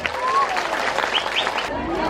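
An audience applauds for Pak Prabowo at a religious gathering, a short burst of crowd clapping and cheering with whistles and voices mixed in, fading slightly at the end.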